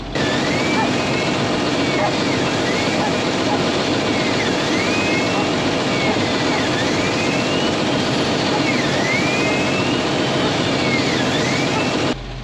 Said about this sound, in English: Since I do have that bristle broom here, that Ego bristle broom, I'm gonna go ahead and just use it and clean off the pad